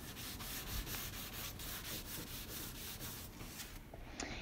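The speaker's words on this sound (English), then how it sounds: "I'm using 150 grit sandpaper wrapped around a sanding sponge" Rhythmic back-and-forth rasping of 150-grit sandpaper wrapped on a sanding sponge, rubbed over wooden dresser pieces by hand, strokes repeating about twice a second, close and fairly quiet.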